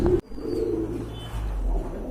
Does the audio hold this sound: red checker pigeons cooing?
yes